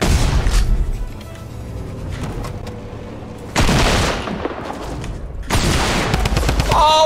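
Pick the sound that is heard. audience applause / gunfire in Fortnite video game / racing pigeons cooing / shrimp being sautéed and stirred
gunfire in Fortnite video game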